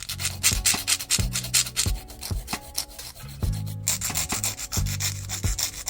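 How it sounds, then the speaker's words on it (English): Steady rasping of a hand file on fingernails, quick repeated back-and-forth strokes, close and fairly loud, with a few soft knocks; no talking. "I'm gonna go in with my hand file to file the sides and the tip of the nail"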